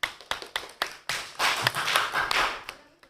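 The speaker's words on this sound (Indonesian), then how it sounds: "Tepuk tangan untuk kelompok 4." Classmates applaud a student group in a classroom: a few scattered single claps swell into a short burst of clapping from a small group, then fade out.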